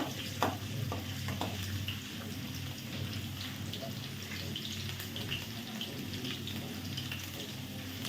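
Ginger frying in hot oil in a pan, a steady close crackling sizzle with scattered pops throughout, with no voices.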